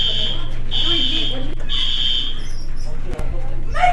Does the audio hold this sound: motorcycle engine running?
no